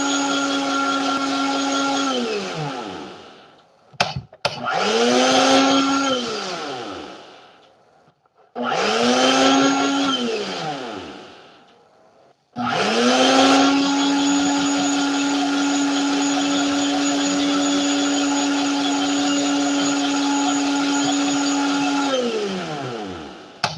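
A blender on its smoothie setting grinds coconut into flour with a loud, steady motor whine, stopping and restarting several times with rising and falling pitch before one long continuous run.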